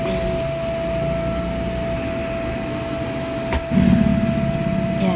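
A vacuum cleaner with a nozzle runs across the top of a surface, giving a steady, close whooshing drone with a thin whine. It shifts with a brief thump and grows slightly louder near the end. No one speaks.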